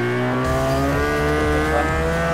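A high-horsepower drift car spins out in Forza Horizon 4, its engine droning loud and continuous with harmonic whine and tire noise throughout.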